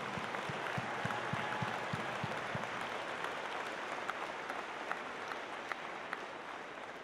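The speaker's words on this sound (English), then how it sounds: "So please, a huge round of thanks and applause for them as well." Audience applause for volunteers at a FIRST robotics district event's opening ceremony, a steady wash of clapping from a large crowd filling the hall, with a few sharper nearby claps standing out at the start.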